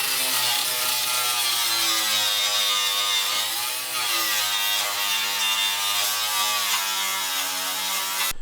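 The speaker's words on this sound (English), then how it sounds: "I'll get the flat wheel out, start grinding all these edges down" A flap wheel on a grinder works down welded seams and edges on a car body under paint prep, giving a steady, loud, high-pitched whine with shifting tone as pressure changes, continuous and close throughout.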